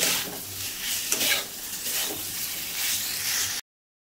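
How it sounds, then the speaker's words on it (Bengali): Yogurt and spices fry in a pan for a fennel and pointed gourd curry, making a continuous loud hiss with stirring scrapes. The sound cuts out briefly near the end. "দইটা দেওয়ার পরে একটুখানি কষাবো"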